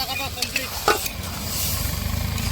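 Shrimp-style fish fry in a mustard mixture with loud sizzling and rapid stirring. Speech sounds are mixed over the early part, and the stirring grows steadier and more rhythmic toward the end.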